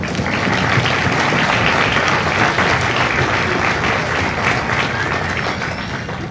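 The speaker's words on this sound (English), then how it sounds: "So thank you. Give yourselves a round of applause." Thunderous crowd applause at a Marine Corps Recruit Depot San Diego graduation ceremony, a dense, sustained roar of clapping from a large audience that stays loud and even, easing slightly at the end.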